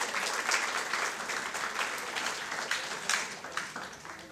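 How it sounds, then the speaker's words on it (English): Student audience at a university event in Dubai giving a sustained round of applause, dense clapping swelling and easing over several seconds. "All of you deserve a huge round of applause."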